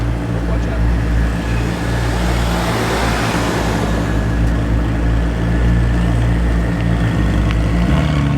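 Rally cars arrive at a lake-house lunch stop, engines rumbling in a steady, continuous drone that nearly fills the whole stretch, with no clear gaps between passing vehicles.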